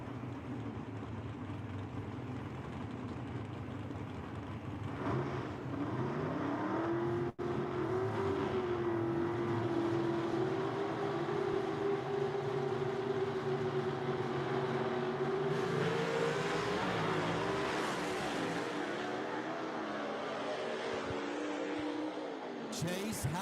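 Drag racing cars making a pass at Knoxville Dragway in a Southeast Gassers Association A gas bracket semifinal, a loud sustained engine roar with rising pitch as the cars accelerate down the track, an announcer talking over it.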